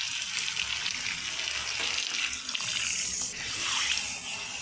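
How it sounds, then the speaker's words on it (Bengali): Water poured into a pot of browned, frying meat and potatoes, a continuous bright hissing sizzle with gurgling splashes that rises and dips slightly over several seconds, with no talk. "এবার আমি পরিমাণ মতন জল দিয়ে দেবো।"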